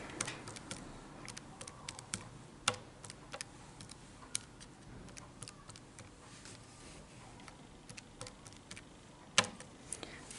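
Numbers being keyed into a calculator, sparse light clicks and taps spaced irregularly, faint and close against a quiet background with no talking.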